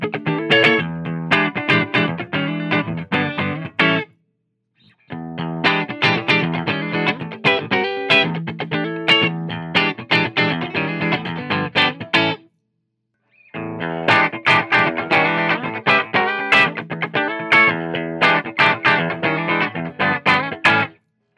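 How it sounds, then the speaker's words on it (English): PRS NF53 electric guitar played through heavy distortion, loud chunky riffs in three sustained bursts separated by brief silent pauses, with no background noise. "That's with a ton of distortion."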